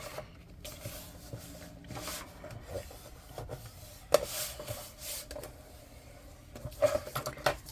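Folded paper pocket being burnished flat by hand to spread the glue, a soft intermittent rubbing and scraping in short strokes, quiet and close with no talk.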